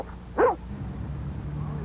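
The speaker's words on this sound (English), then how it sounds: "And barking on command." A single sharp dog bark near the start, close and loud, followed by quiet background hum.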